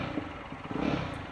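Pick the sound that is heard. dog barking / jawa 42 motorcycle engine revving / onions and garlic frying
jawa 42 motorcycle engine revving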